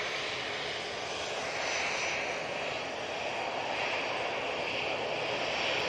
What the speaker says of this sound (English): Right, this is easyJet coming on now.